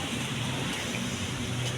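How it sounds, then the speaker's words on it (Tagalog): Rain falls steadily at night as a soft, even hiss with no break or talk, fairly faint and continuous throughout. "It's still raining."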